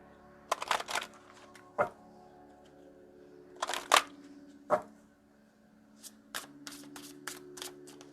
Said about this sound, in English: I'm going to get 1 from the Goddess and Sirens deck. Let's go ahead and shuffle it up.